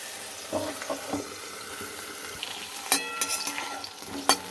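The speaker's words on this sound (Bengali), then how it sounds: "এবার আমার পটলগুলো ভাজা হয়ে গেছে" Pointed gourd pieces fry in oil in a pan, a soft continuous sizzle broken by scraping stirs and clinks of a utensil nearby.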